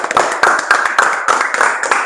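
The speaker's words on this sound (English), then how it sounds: "Please clap for yourselves." Audience clapping at a LoveWorld songs alphabet game session, a lively burst of close hand claps with uneven rhythmic peaks, steady and fairly loud for a couple of seconds.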